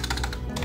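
Rapid typing on a Razer gaming keyboard, a full-size board rather than a TKL, with dense, close key clacks in quick succession throughout.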